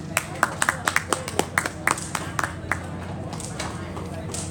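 Scattered hand claps from an audience greet a male singer at a Vietnamese spring music show: a dozen sharp, uneven claps that thin out over a few seconds, with a steady low background hum.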